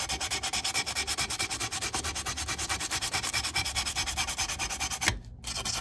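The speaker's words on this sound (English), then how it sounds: "So we know we got a little bit more sanding here to do." Rhythmic, steady scraping strokes of sanding on stainless steel trim, close and even, pausing briefly near the end before resuming.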